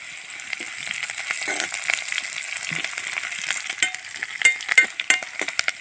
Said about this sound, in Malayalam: എല്ലാം കൂടി എണ്ണയിൽ നിന്ന് നന്നായിട്ടൊന്ന് മൂത്ത് വരണം കേട്ടോ